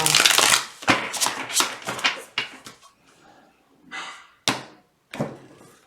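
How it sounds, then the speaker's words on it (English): Cards are riffled and shuffled in several quick, crisp bursts, close up, with short pauses between them. "Let's give it one more shuffle."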